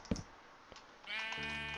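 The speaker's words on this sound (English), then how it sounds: "Go away, sheep." A sheep bleats in a building video game: a couple of soft clicks and taps come first, then a single wavering bleat close by that fills the last second.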